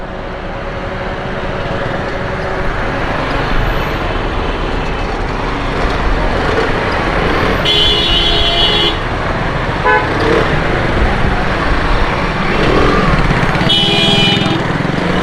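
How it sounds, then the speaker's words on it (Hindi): Dense city-road traffic jam with engines idling and rumbling throughout and several short car horn toots sounding at intervals, steady and fairly loud, no talking. "आगे पता नहीं क्यों ट्रैफिक जाम हो गया है।"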